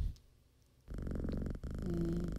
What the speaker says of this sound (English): Purring cat.